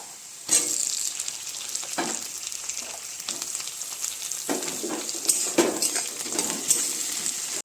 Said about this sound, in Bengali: একটু হলুদ, একটু লবণ দিয়ে কাঁকড়াগুলোকে একটু ভাজা ভাজা করে নেব